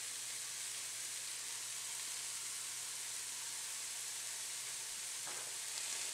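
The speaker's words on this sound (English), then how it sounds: "Let the vegetables steam for a couple of minutes" Vegetables sizzle and steam in a pan with a little added water and red pepper flakes, stirred during a noodle stir fry; a steady, even hiss close by with no voices.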